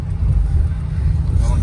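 BMW 528i E28 car engine running at steady high revs, a loud continuous low rumble held throughout with wind buffeting over the microphone.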